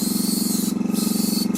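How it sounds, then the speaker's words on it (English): An airbrush sprays black paint onto the rock work of a tabletop battleboard terrain piece, making a steady hiss close by. A compressor hums and throbs rhythmically beneath it, and the hiss briefly dips twice when the spray is released. "I'm going to just airbrush some of the darkness back into the rock work with a bit of black."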